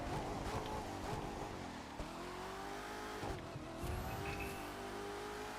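Corvette ZR1 hypercar racing in The Crew 2 around New York: a continuous loud engine roar with shifting revs, gear changes and brief tyre squeal as it brakes and turns, with no voices.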